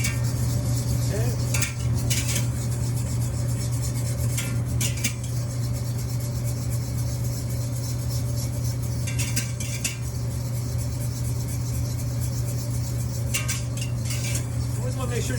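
A spoon stirs popcorn kernels in a metal pot, giving intermittent clinks and scrapes over a steady hum, close by, with brief bursts of scraping every few seconds.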